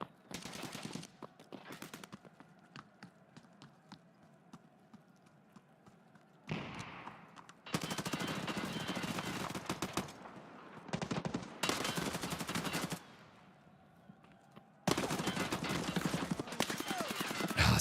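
Rapid automatic gunfire rings out in Escape from Tarkov Arena, with several long, loud bursts and quieter gaps between them where someone talks.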